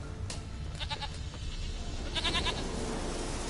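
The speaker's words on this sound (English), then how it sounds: "Here, goat." A goat bleats in Witcher 3, a few short wavering cries in a grassy outdoor scene, with a second louder burst of bleats after a pause over a steady low ambient wash.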